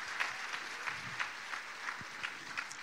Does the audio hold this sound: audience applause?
yes